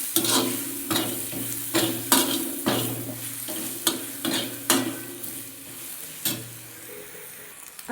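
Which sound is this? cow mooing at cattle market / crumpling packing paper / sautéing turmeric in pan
sautéing turmeric in pan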